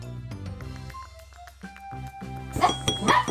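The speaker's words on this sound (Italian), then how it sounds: "E sta abbaiando per questo." Small dog barking indoors in a kitchen while homemade slime is being mixed, a few sharp barks scattered among clinking, musical tones and other busy household noise, growing louder near the end.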